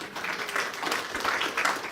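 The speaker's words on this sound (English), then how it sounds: "let's give them a round of applause" A live audience claps through a round of applause at an indoor gathering, a dense, steady patter of many hands with no voices over it.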